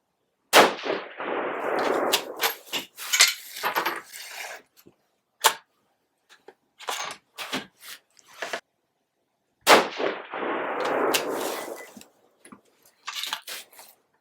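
A 6mm ARC rifle firing 108-grain ELD-M bullets over Reloader 15 powder lets off two sharp, loud gunshots several seconds apart, each followed by rolling echo and clinks and clatter of handling nearby.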